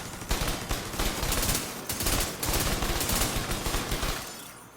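Video game weapons, a blast cannon and a spike weapon, fire in rapid repeated bursts that are loud and close for several seconds before trailing off.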